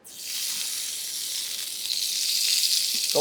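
Yellowtail (buri) skin sears in a hot pan, with a loud, continuous close-up sizzle that starts abruptly and builds slightly, with no talk.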